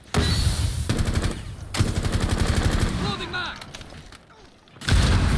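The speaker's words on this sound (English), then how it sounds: "I'm basically doing this all with suppressive fire." Rapid machine gun bursts in the tactical shooter Rainbow Six Siege, loud and close, firing in sustained volleys with brief pauses between them.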